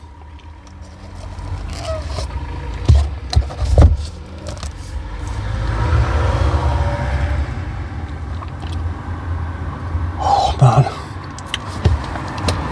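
Road traffic passes close by outside, with car and vehicle rumble swelling and fading and a few louder pass-bys, while a person speaks briefly over it.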